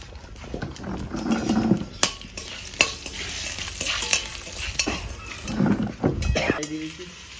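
Whole cumin, bay leaves, dried red chillies, cinnamon, cloves and green cardamom crackle in a pan for a rustic fish curry. A spoon scrapes and clanks against the metal as the spices are stirred, with quiet background sounds throughout.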